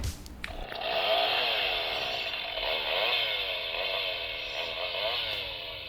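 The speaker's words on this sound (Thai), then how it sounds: "อ้ออันนี้เจ๋งสุดครับ เสียงเลื่อยไฟฟ้า" A Mezco Leatherface toy's chainsaw sound effect buzzes and revs steadily for several seconds, a loud, tinny electronic whine that rises and falls slightly without stopping.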